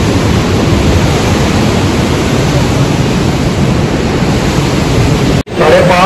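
The Ganga river near Uttarkashi and Gangotri rushes as a loud, steady broadband flow, unbroken for several seconds before a sudden cut, after which softer ambience follows.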